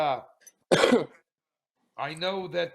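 A sharp cough bursts out between stretches of speech, with a voice talking before and after it.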